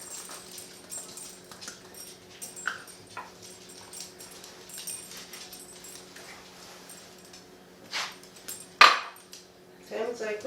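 A dog in a home kitchen, where potato latkes are being made, gives a few short whimpers and yips toward the end. Before that come faint clinks of cutlery and dishes, and quiet household noise.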